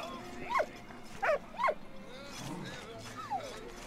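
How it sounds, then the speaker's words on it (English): A dog in the World War I adventure game Valiant Hearts gives a few short, nearby barks and yelps in quick bursts, with a soft whimper near the end over quiet game background. "Ah, this is a dog who needs some water."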